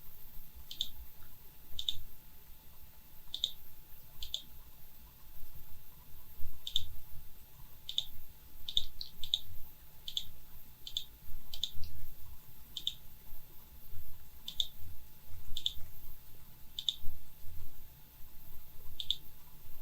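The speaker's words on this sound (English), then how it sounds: "I can right click instead of left click" A computer mouse clicks sharply and close by, in single and double clicks at irregular intervals, over a faint low hum and room noise.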